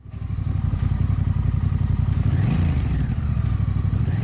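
Honda Rebel 1100 cruiser motorcycle, its Africa Twin-derived twin engine running loud and close, a steady pulsing throb with a brief rev partway through.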